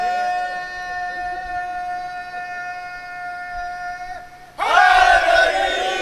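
A crowd at a Shia majlis gathering bursts into a loud, unified religious chant after a sustained held tone, the massed voices rising sharply near the end and staying strong.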